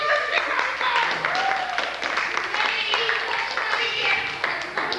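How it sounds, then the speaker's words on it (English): Audience at a jazz and poetry gig clapping steadily and loudly, a dense continuous patter of many hands with voices talking over it. "Don't stop clapping."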